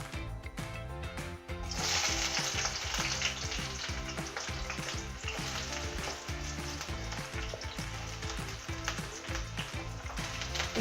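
Onions hit a hot pan with cinnamon, clove and cardamom, erupting into a loud, continuous close sizzle that carries on steadily with faint stirring clatter, no talking.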